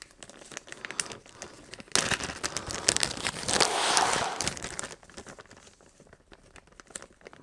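Wrapping paper crinkles and rustles as a Christmas gift is wrapped at home, close and busy, with sharp crackling bursts that swell in the middle and then ease off into softer handling.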